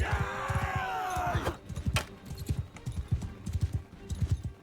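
Horse hooves clip-clopping at a steady riding gait in Mount and Blade 2 Bannerlord, close and rhythmic, with a brief whinny at the start.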